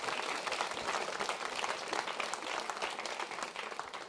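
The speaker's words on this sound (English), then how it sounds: "So let's have a round of applause for our sponsors." An audience at a Bay Area boba event applauds the sponsors, a fairly soft but steady wash of many clapping hands heard from a distance, continuing evenly throughout.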